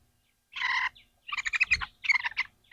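Newly hatched chicks in a brooder box give three short bursts of shrill, rapid peeping, close and clear against near silence.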